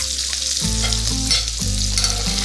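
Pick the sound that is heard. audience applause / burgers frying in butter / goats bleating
burgers frying in butter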